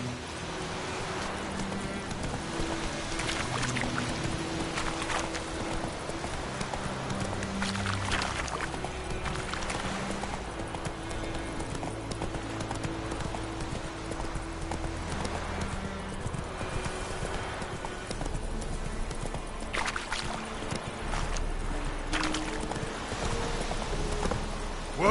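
A horse gallops continuously in The Witcher 3, steady rhythmic hoofbeats throughout with a faint whinny, layered under game music and ambience.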